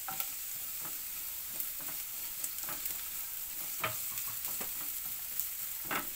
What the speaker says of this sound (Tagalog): ilagay natin ang ating pangunahing ingredient na gigisa natin ang ating bawang. At isunod natin ang ating sibuyas.